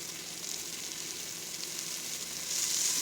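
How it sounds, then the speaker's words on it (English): Garlic sizzling in a hot pan with noodles and vegetables for lo mein, a steady close hiss of frying that swells slightly louder toward the end, with no voices. "We're going to add some garlic in on that."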